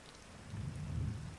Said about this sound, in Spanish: Cómo llueve, ¿no?